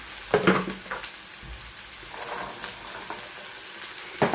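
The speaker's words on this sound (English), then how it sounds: "You want to keep stirring and frying these until all that cabbage and beans are cooked through." Cabbage and beans sizzle and fry with onions and garlic in a pan, a steady close crackle with occasional scraping stirs and clatters, no voices.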